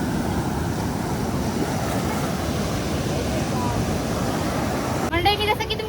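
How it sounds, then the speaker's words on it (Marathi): Sea waves wash up along the shore below Nivati fort on the Konkan coast, a loud, steady rushing surf that fills the scene, briefly joined by a sharper burst near the end. "हे बघा लाटा इथपर्यंत येत आहेत."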